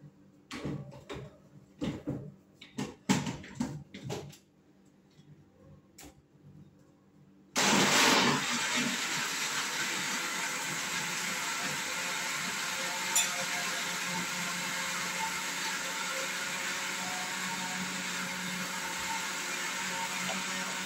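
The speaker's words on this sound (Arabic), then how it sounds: "ضربناه كده في الخلاط اهو" A kitchen blender abruptly starts up and whirs loudly and steadily, mixing a homemade energy drink of honey and iced water, after several seconds of scattered clinks and knocks.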